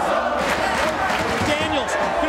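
Arena crowd at a TNA wrestling match cheering and roaring in a steady, loud wash of voices that holds for the whole moment, with no single voice standing out.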